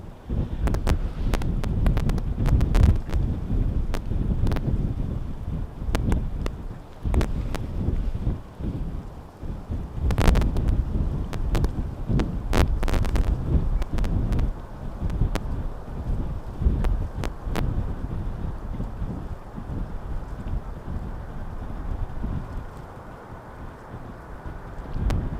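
Strong gusty wind buffeting a microphone at Amsterdam Schiphol Airport near runway 18R, a loud continuous low roar with repeated sharp thumps and crackles, no talk.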